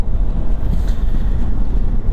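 Strong wind buffeting the microphone while riding a motorcycle at slow speed, a continuous low roaring rush with gusty swells and no voices.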